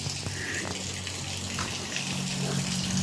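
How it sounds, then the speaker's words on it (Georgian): Heavy rain pours and splashes steadily nearby, a continuous watery rush like runoff gushing down, with a voice briefly audible over it. "ნახეთ როგორ გემრიელად წვიმს."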